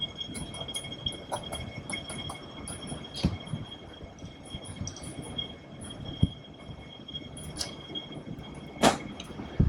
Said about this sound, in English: We're going to take that train to the city.